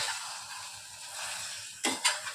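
Egg and bread with chutney frying in a small wok, a soft sizzle with a couple of sharp utensil scrapes or clinks near the end, quiet and close.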